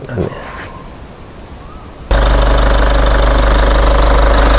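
A 2023 Isuzu D-Max Hi-Lander 1.9 diesel pickup engine idles loudly and steadily with a rough, knocking chatter, starting abruptly after a couple of seconds of quieter background noise.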